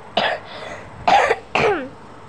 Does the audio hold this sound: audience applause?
no